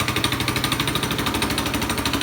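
Small homemade Snow Mutt machine engine running with the choke partly on, a rapid, even chugging pulse, loud and close with no talk.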